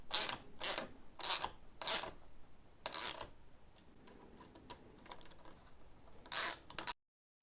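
A ratchet wrench clicks in short bursts while turning Torx T30 bolts on KTM 790/890 Adventure motorcycle handguards, with several quick, close ratcheting runs separated by pauses and faint handling noises.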